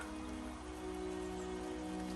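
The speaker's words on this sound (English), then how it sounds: "Oh, and more rain." Steady rain falls outdoors at a horse yard during showery weather, a soft continuous hiss with low rumbling background and a faint tonal hum, no voices.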